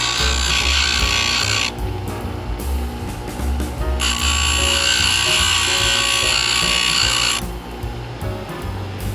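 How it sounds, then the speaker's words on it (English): Electric grinder working down a metal rim cylinder part, a loud steady whine that surges in two long bright bursts of grinding contact with a lower motor hum in between, close and continuous, no talking. "We're going to grind that down slightly so I can get it turned over."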